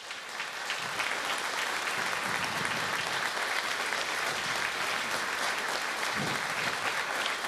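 Dense, sustained audience applause at an opera ball with an army orchestra conducted by maestro Orbelian, a continuous full wash of clapping that swells in within the first second and holds steady throughout.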